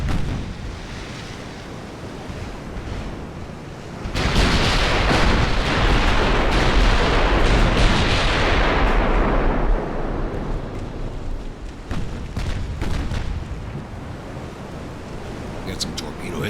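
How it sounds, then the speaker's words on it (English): Torpedo hits exploding in the naval warfare game Ultimate Admiral: Dreadnoughts, set in an 1890 Italian campaign: a sudden loud, broad rumbling blast that swells and roars for several seconds before tapering into a lingering sea-like wash. "Got some torpedo hits hitting out there."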